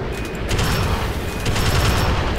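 A game turret fires a dense, continuous barrage, loud and close, with rumbling booms and rattling shots blending into one sustained roar.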